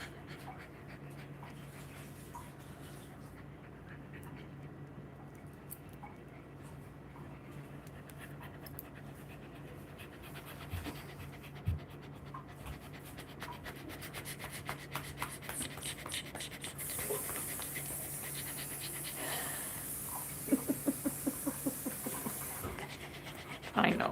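A dog pants steadily and close by through the whole stretch, with rubbing and handling noises over it and a few sharp knocks near the end.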